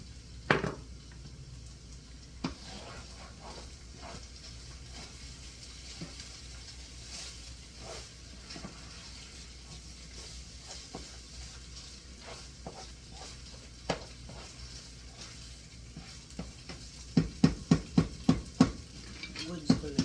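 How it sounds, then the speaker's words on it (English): A wooden spoon stirs a vegan Impossible meat and vegetable stir fry, breaking up miso paste, with steady soft scraping and faint sizzle, ending in a quick run of sharp taps against the pan. "Wooden spoon right here. Little slotted spoon give me problems. There we go. And break up that miso paste."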